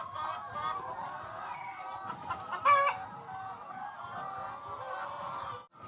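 Chickens cluck softly around a slippery rural path while a rooster lets out one brief crow midway, all fairly distant over a quiet outdoor background.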